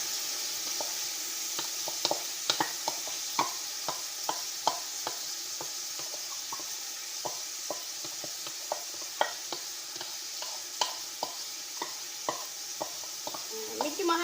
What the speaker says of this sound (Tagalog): Lagay na natin ang bigas.